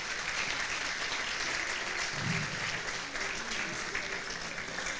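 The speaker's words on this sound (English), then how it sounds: "How about a nice round of applause today for our next guest" Studio audience applauding as a guest, Elliot Abrams, is welcomed onto a show, a steady wash of clapping that holds at an even level for the whole stretch with no voices on top.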